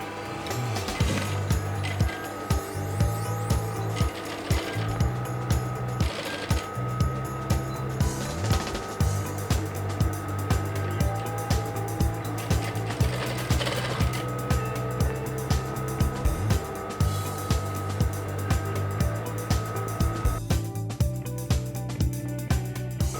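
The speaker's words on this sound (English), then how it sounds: "Now I'm top stitching on the cap head." A sewing machine top stitching around the head of a traditional Yoruba fila cap, running in steady bursts with a rapid mechanical clatter and a low motor hum, close and continuous with brief pauses and no talking.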